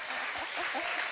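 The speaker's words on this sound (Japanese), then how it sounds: "拍手。" A short burst of steady applause from a crowd, dense clapping at moderate volume.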